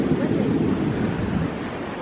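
Atlantic Ocean waves wash ashore at Kure Beach, North Carolina, heard as a steady, broadband roar of surf mixed with wind buffeting the microphone, continuous and fairly loud throughout.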